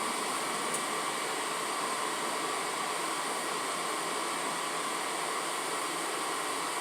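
A concentrated torch flame roars steadily as it heats metal for blacksmithing work, a constant broadband hiss with no pauses and no voices over it.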